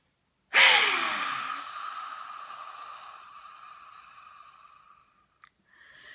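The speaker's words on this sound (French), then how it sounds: "Grande respiration." A deep breath during a facial yoga exercise, a sudden loud inhale followed by a long, slowly fading sighing exhale, close to the microphone with no talking.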